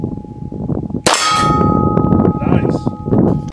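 A bullet strikes a steel target at a shooting range with one sharp, loud metallic clang that rings on with a sustained tone over a steady background.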